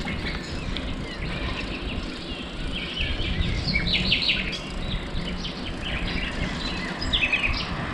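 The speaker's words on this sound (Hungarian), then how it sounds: "Nem hallják ezt a szép fülemüle éneket." A nightingale sings near Stavros in Greece, with bright, rapid chirping phrases in short bursts over a steady hiss of outdoor background noise.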